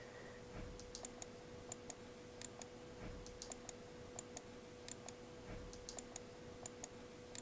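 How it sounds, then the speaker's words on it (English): A computer mouse clicks repeatedly while editing in Photoshop Elements, with sharp, close, quiet clicks in irregular clusters over a steady low hum. "In theory, I can make the whole box white if I keep clicking."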